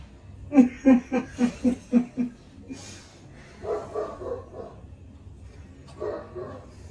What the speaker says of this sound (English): That's our neighborhood dog. He barks when he hears us in the kitchen.